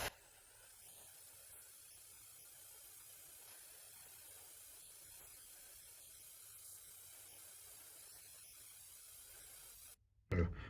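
An airbrush sprays black primer in a steady, faint, continuous hiss lasting about ten seconds, ending in a brief louder burst.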